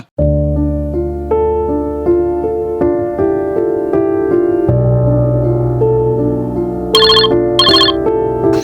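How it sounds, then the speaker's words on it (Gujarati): A loud, melodic phone ringtone plays continuously, its tune shifting and repeating with bright chiming notes near the end. "કોનો ફોન આવ્યો પાછો"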